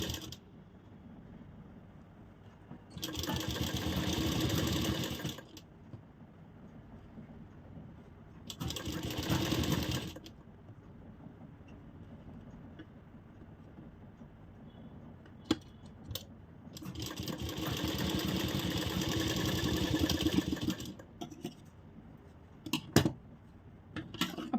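Sewing machine stitches a katori blouse in three separate bursts of steady whirring, each a few seconds long, with quiet room noise and a few small clicks between them.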